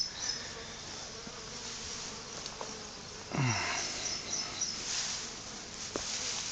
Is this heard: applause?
no